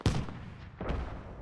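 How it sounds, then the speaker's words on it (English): Two heavy explosions boom in quick succession in the Squad military video game, the first a sharp loud blast and the second arriving under a second later, each trailing into a rumbling decay. "we're about to have some explosions rain down here"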